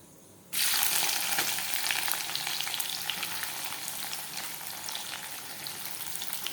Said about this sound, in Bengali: এখন এই যে কুচানো পেঁয়াজটা দিয়ে দিব।